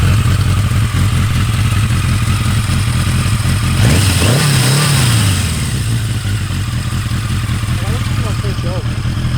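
A 1982 Yamaha Maxim 650 motorcycle with 28,000 miles fires up close by, a brief starter-and-catch burst settling into a steady loud idle, with someone talking over it.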